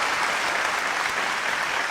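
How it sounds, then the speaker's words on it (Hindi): Audience at a poetry mushaira in Dubai gives hearty, sustained applause, an even wash of many hands clapping at moderate loudness with no pauses. "एक बार जोरदार तालियां"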